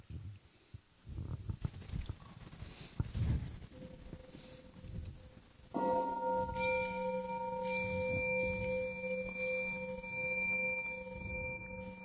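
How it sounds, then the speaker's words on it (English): A Buddhist temple bell is struck during a Sunday service chant, ringing out with a sustained metallic tone that layers into several long overlapping resonances, following quieter murmured chanting and rustling. "inviting the bell"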